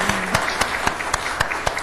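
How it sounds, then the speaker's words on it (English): A few sparse, spaced-out claps at a city council meeting, sharp individual hand claps at a steady pace over a low hum, with a brief tonal sound at the start. "I'll take that round of applause."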